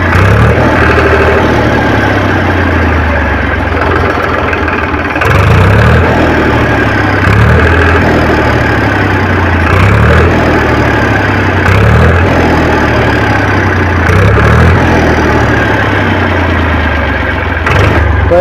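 A Powertrac 439 DS tractor diesel engine idles steadily after a tappet adjustment, a loud, close, even low chugging that holds throughout with a regular pulsing beat and no talk.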